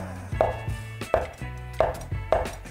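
A knife cuts pumpkin dough into small pieces on a board: four or five evenly spaced, firm thuds close by, with faint music underneath.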